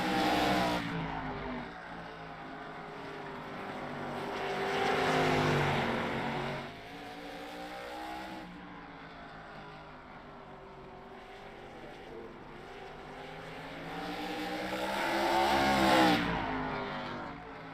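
Race cars in a sim racing game circle a 0.36 mile track, engine drone rising and falling as they pass, a moderately loud continuous roar with no talk.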